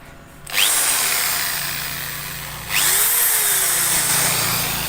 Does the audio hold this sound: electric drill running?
yes